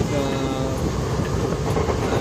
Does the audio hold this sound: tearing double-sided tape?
no